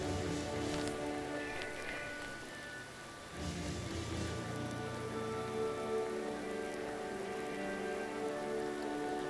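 Steady rain from the Dreams video game hisses continuously beneath tonal background music, dipping briefly in loudness before returning at full strength.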